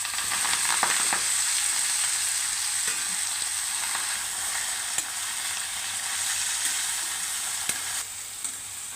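Fenugreek leaves (methi) stir-fried in a pan with roasted chilli and garlic, giving a steady, close hiss of sizzling with light stirring scrapes throughout, no voices.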